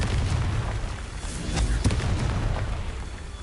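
Confringo blasting spell from Hogwarts Legacy on PS5, a dense rumbling explosion burst that stays loud for the whole stretch, with a sharper booming crack partway through and no talk over it.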